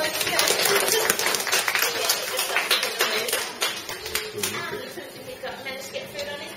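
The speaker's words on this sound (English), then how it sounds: "So feel free to give him a bit of a round of applause." A small group of visitors claps at a kiwi wildlife centre in Queenstown, New Zealand. The dense, close applause holds steady for about three seconds, then thins and tapers off under faint background noise.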